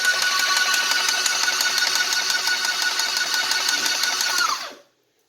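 An airless paint sprayer pump runs with its prime valve closed and builds pressure. A loud, steady mechanical whirring chatter goes on for several seconds, then winds down abruptly and stops into silence.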